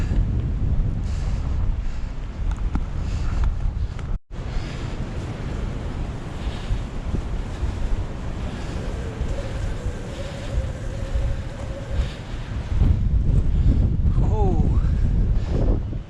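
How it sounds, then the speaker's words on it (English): Strong wind roars steadily across the microphone outdoors during an e-bike ride, with surging water and a brief dropout; the gusts grow louder toward the end. "Windy."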